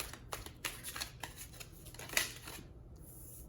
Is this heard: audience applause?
no